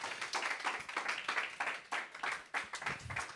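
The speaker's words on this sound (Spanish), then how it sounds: "dale un aplauso fuerte a Jesús" A church congregation claps loudly during a sermon, many hands beating in a strong, roughly rhythmic pulse of repeated bursts rather than a smooth wash, heard alone without talk.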